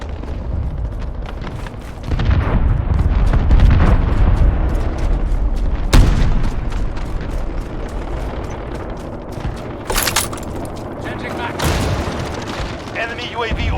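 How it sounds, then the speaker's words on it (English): Cruise missile explosions in Call of Duty Modern Warfare boom and rumble in heavy low bursts, with sharp blasts and scattered gunfire crackle, loud and near, under occasional game voice callouts. "Allied cruise missile launched."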